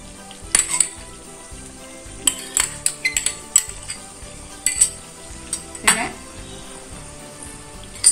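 Chicken frying for chilli garlic chicken hisses steadily in a pan as tomato sauce goes in, with repeated sharp clinks and scrapes of a spoon against the pan over the continuous sizzle.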